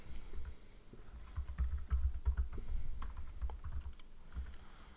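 A password being typed on a desktop computer keyboard: a close, continuous patter of key clicks, some louder strikes mixed in, with no voice over it.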